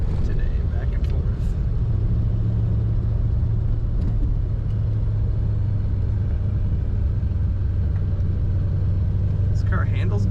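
A 1948 Ford Super Deluxe two-door sedan cruises at about 30 mph, its engine a low, constant drone with steady road and wind rumble heard from inside the car.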